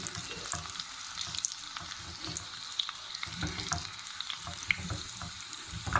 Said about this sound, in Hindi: सुर्ख मिर्च साबुत चली गई। इनको थोड़ा सा हम भून लेंगे।